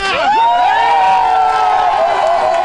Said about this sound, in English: Crowds outside the hospital erupted with joy at news of the baby prince